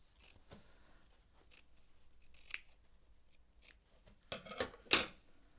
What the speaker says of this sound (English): I'm going to pop the glue, trim it to 1/4 of an inch and finger press it down.